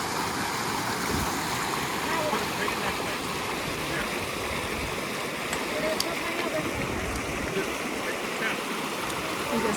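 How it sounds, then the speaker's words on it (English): A roaring stream crossing the Pacific Crest Trail rushes in a dense, continuous wash of turbulent water, loud and close for the whole stretch. "We just flung the packs over this roaring stream."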